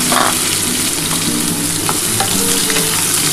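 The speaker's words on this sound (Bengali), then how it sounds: "গরম হয়ে গেছে, আমি এই যে কাঁকরোলটা দিয়ে দিলাম" Spiny gourd is dropped into hot oil and fries with a loud, close, continuous sizzle and bubbling crackle that holds steady for a few seconds, with no speech.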